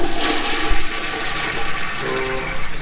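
A hotel bathroom toilet flushes loudly up close, a rushing gush of water that swirls and drains before the tank begins refilling with a softer hiss.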